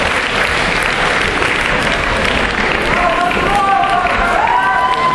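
Loud applause and crowd noise for the dance couples at a youth sport dancing competition in Pazardzhik, continuous clapping with a voice speaking over it near the end.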